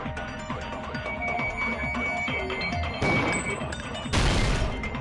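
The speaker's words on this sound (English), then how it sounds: "the girls heard the sound of the window shattering" Window glass shattering as a sound effect in the Danganronpa V2 video game: two loud bright crashing bursts, the second fuller and longer, over a busy background of game music.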